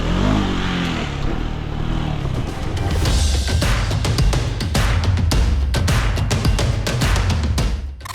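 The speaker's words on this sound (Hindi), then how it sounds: "ये काफ़ी इंटेंसिव ऑफ रोड सेशन था जिसमें हमने इस 390 एंड्यूरो आर को चलाया है" A KTM 390 Enduro R ride off-road, its single-cylinder engine revving and surging up close over rough terrain, with clattering knocks and bursts of acceleration throughout.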